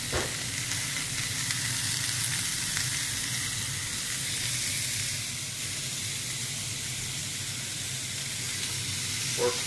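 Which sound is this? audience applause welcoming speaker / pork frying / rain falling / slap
pork frying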